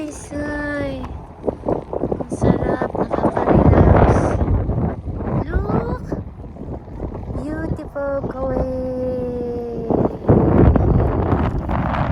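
Gusty wind buffets the microphone with loud rumbling roars that rise and fall, while people talk intermittently nearby.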